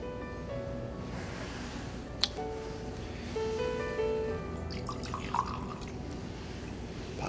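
Water poured into wine during a Sunday Catholic Mass at the Church of Notre Dame: a soft trickle and a few faint drips over a quiet, hushed church ambience, with a sharp tap near the middle.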